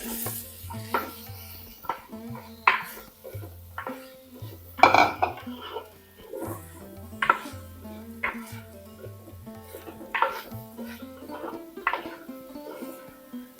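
Medium potatoes go into a curry pan, and several sharp clanks and knocks of utensil against metal ring out with some stirring scrapes, spaced irregularly over a low background hum.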